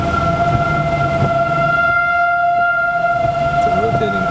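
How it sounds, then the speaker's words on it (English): Tornado sirens sound over the small town of Oregon, Missouri during a hailstorm. A rotating siren holds a steady, piercing two-tone drone above heavy rumbling wind and storm noise, loud and continuous from start to finish. "Tornado sirens are going off."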